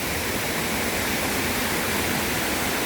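Silvermine Waterfalls at Mui Wo, running strong after several days of rain, gives a dense, constant roar of falling and splashing water, loud and close with no letup.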